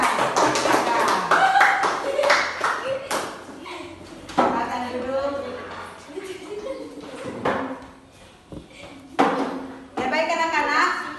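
A classroom group of students claps for a reading group, with brief scattered bursts of hand claps between stretches of talking and moving about, alongside occasional taps and knocks.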